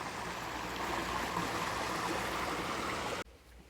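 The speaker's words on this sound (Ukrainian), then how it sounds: "каналізація виливається до річки" Sewage outflow pours into a river, a steady rushing splash of water heard up close for several seconds before it abruptly cuts to a quieter background.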